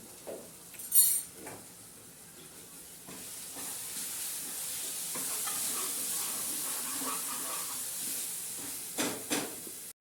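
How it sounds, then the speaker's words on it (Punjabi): Semolina roasts in a pan for a Diwali prasad, a soft steady hiss with faint scraping and a few clinks of a stirring utensil, close but quiet with no talk. "ਸੂਜੀ ਭੁੱਜ ਚੁੱਕੀ ਹੈ"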